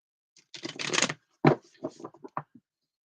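Cards are shuffled in a few quick riffling bursts, close and crisp, followed by short taps and rustles.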